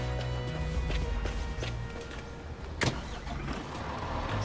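A MAN truck drives off in the Bau Simulator construction game, its engine a steady low diesel drone with a brief sharp clunk partway through, heard alone.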